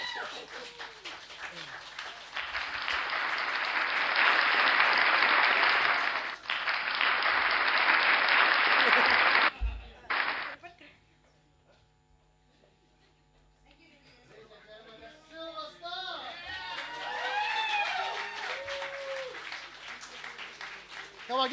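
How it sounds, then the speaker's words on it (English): Live studio audience at a Friday night livestream show breaks into loud sustained applause and cheering, which cuts off abruptly; after a quiet pause, voices and chatter return. "Come on, give them one more big round of applause."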